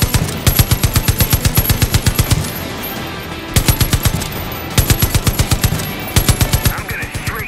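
Bursts of rapid machine gun fire in Far Cry 5, loud and close, several sustained volleys separated by short pauses.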